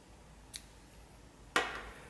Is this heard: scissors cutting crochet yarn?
yes